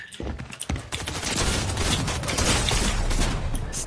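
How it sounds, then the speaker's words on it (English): Gunfire during a match of the video game Fortnite, a few sharp shots at the start and then a dense, continuous rattle of rapid fire filling the rest, loud and close with no talking. "I think Movie's just shooting everyone."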